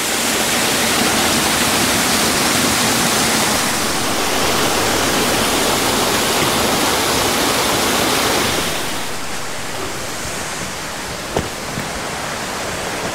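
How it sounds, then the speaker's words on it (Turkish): A steady, loud roar of a waterfall close by, near its base, continuous and broadband, easing slightly in level toward the end with a brief knock. "Dibine kadar geldim bu şelalenin."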